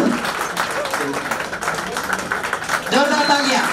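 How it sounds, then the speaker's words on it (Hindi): Applause from a seminar audience, continuous clapping with voices talking over it, fairly loud and close throughout. "जोरदार तालियां।"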